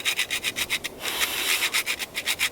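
Smooth side of a tool scraped over wood in a primitive-living setting: rhythmic, close rubbing strokes, about a dozen quick back-and-forth passes with a brief steadier scrape in the middle.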